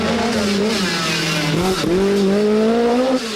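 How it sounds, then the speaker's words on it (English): A Lancia rally car races flat out on a tarmac stage, its engine roaring loud and close with a rising and falling pitch through gear changes, tyres briefly scrubbing mid-run. "It is Lancia's chance to show its force, headed by André's tarmac racing car"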